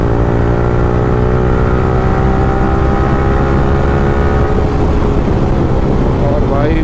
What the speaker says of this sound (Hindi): बाइक्स की जो आवाज़ है ना भाई, वो क्या ही बोला जाए, एक अलग ही म्यूजिक है हम बाइकर्स के लिए